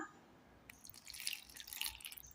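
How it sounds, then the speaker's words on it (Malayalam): A little water is poured into a bowl of maida flour with salt and oil, a short, close trickling splash that starts abruptly and lasts about two seconds over quiet room tone. "ഒരൽപ്പം വെള്ളം കൂടി ചേർത്ത് കൊടുക്കാം"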